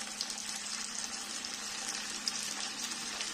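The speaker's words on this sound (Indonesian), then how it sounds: "Kita goreng sampai warnanya kecoklatan." Food fries in a pan of oil until browned, giving a steady, fairly faint sizzling hiss dotted with tiny crackles and pops, with no talking.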